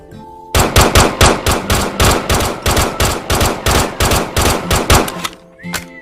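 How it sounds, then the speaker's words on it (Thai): Loud, close bursts of rapid automatic fire from the Gun3D gun addon in a video game, a steady stream of regular shots lasting several seconds, then a brief mechanical sound at the end, with no talk. "เดี๋ยวมาลองยิงกันนะฮะ"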